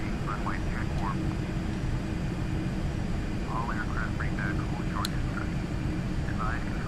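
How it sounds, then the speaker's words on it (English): A Learjet takes off at dawn from Gatwick in Microsoft Flight Simulator X, its steady jet engine roar filling the background while someone talks over it. "Look at that dawn takeoff."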